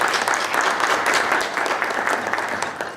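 A memorial lecture audience gives a round of applause for a sponsor, brisk dense clapping that holds steady and then begins to thin and fade at the end.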